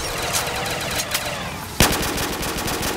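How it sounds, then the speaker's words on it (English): Rapid automatic gunfire in a Black Ops 3 custom zombies game, a dense continuous stream of shots with one sharper burst partway through, loud and close, with no talk. "Time to riddle them with bullets."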